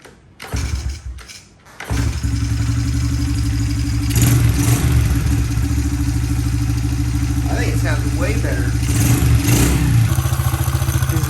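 Small Honda XR70 dirt bike engine idling steadily close by after a brief start, with a mechanical noise from the flywheel side under a continuous low rumble.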